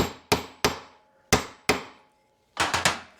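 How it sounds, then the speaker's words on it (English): A small hammer taps on wood in sharp, ringing knocks while rebuilding a double cardan driveshaft from a 1971–76 Cadillac DeVille: two, then two more, then a quick burst of three, each decaying quickly. "Now I'm using a small hammer and some wood"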